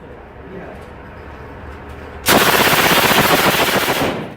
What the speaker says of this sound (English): the weapon they chose, somewhat surprisingly, was the famous PPSH-41 submachine gun